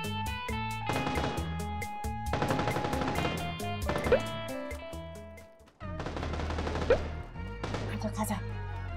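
Video game gunfire in a Korean shooter match: rapid bursts of automatic shots crack in quick succession with single rounds between them, loud and close, mixed with game sound effects.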